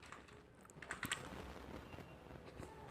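Quiet typing on a computer keyboard during AutoCAD work, with a short burst of soft key clicks over a faint room background.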